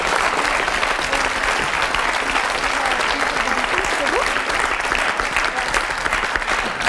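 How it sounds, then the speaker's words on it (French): A studio audience applauds the mother of quadruplets on a French talk show, steady dense clapping that continues evenly for several seconds without a break. "on peut l'applaudir, oui."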